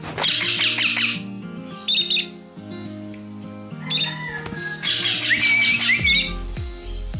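An Indian ringneck parakeet during free-flight training lets out loud, harsh squawks in several bursts, close by, with a steady low hum underneath.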